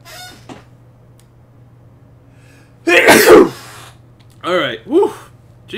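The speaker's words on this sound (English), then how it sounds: "I'm gonna have to sneeze." A single sharp sneeze bursts out loudly in the middle, with a steady low hum underneath and a few short voiced sounds shortly after, recorded during a Bioshock Infinite game session.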